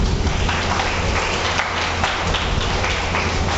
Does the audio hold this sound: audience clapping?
yes